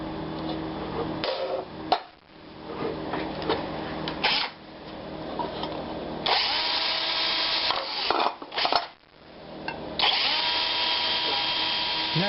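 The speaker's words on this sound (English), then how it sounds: "I'm going to drill small holes in the bottom for air" A power drill bores small air holes in the bottom of a metal can for a wood gas burner, sounding as sustained whirring bursts broken by short pauses and a few knocks.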